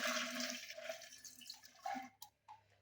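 Boiled, cooled water pours and splashes close by into a papaya pickle mix, faint and gurgling, then breaks into a few short trickles before stopping.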